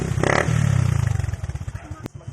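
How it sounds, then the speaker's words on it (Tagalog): A 2019 matte black Suzuki Smash 110 motorcycle engine idles near and loud with a fast, pulsing putter that slows slightly, a brief clatter and a short snap near the end. "Mag-test drive tayo ng aking motor."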